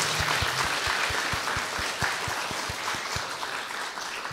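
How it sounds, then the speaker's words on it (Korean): A congregation at a Korean Sunday church service gives welcoming applause to newcomers: a steady wash of clapping with a regular, rhythmic pulse of soft thumps running beneath it. "진심으로 우리 환영하는 박수 하겠습니다"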